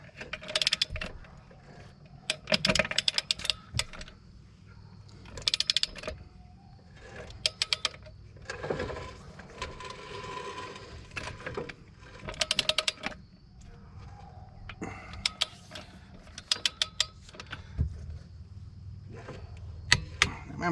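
Metallic clicking and clinking while wheel nuts are tightened on a REO F20 truck, irregular bursts of ratcheting and tool clatter, close and fairly loud between quieter stretches.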